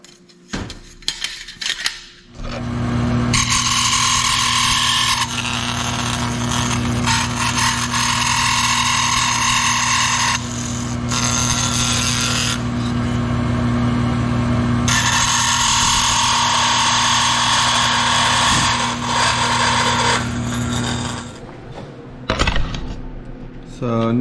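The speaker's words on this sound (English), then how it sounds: "And now I'm gonna cut it on the bandsaw." A bandsaw cuts a metal panel for a four-place Super Cub aircraft build, a loud steady whine running in two long passes with a brief pause between, bracketed by handling clatter before and after.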